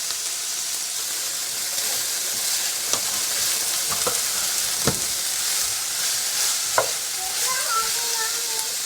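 Four cups of broccoli fry in a pan and are stirred, giving a steady hiss with scattered scrapes and clacks from the utensil, close up, with no talking.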